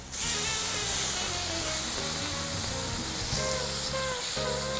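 Salmon fillet seasoned with lemon sizzles loudly and steadily in a hot frying pan while being flipped, a continuous close frying hiss with small shifts in crackle.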